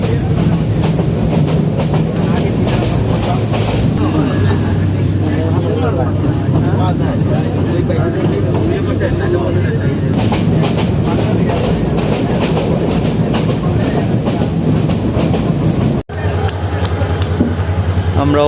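Titas passenger train running on rails, a loud continuous rumble with rhythmic rail clatter throughout, voices audible over it, ending in a brief break near the end.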